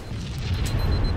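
A deep, rumbling grenade blast in a Halo 3 multiplayer match on the Foundry map, a sustained low boom with no voices over it.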